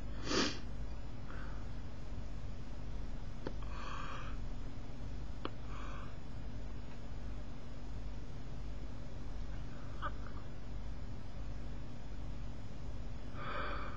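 Stuffy, congested sniffs and snorts from someone with a cold, a few brief close bursts spaced out over quiet room hiss.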